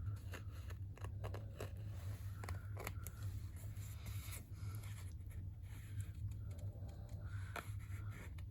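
Scissors cut paper for a small no-sew handmade journal, with soft, close snips and light rustling over a faint steady hum.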